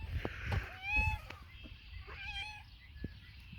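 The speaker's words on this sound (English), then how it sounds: "Big fat cat." A big, heavy cat meows indoors, two drawn-out calls close by with someone talking softly and low rustling underneath.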